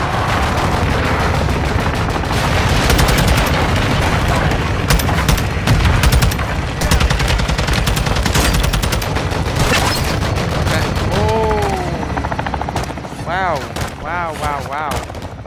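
Sustained belt-fed machine-gun fire in the Call of Duty Modern Warfare 2 campaign, dense rapid bursts with booming impacts, loud and continuous, with radio voices and whistling incoming rounds near the end.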